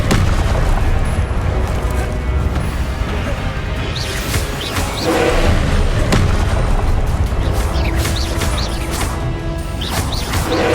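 Repeated spell explosions from Confringo and Incendio casts in the video game Hogwarts Legacy: loud booming blasts and crashing impacts burst one after another over a dense, constant rumble of combat effects.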